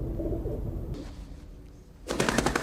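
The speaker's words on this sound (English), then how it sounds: "From Van Damme's special moment with a pigeon." A pigeon coos in a scene from the Van Damme action film Hard Target, starting over a low, dense background and ending in a louder burst of bright broadband sound.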